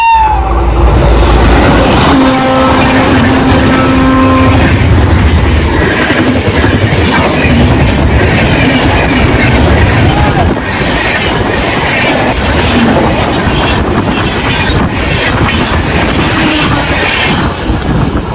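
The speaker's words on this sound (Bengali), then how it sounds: "এক্সপ্রেস ট্রেন গেল পুরো হিলিয়ে দিয়ে গেল ভাই" An express train thunders past close by, loud rumbling and rhythmic clatter of wheels on rails, with a brief horn tone near the start.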